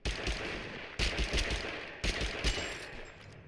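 Rapid bursts of gunfire from the video game Totally Accurate Battlegrounds crackle in three dense volleys, each starting sharply about a second apart and trailing into a sustained rattle.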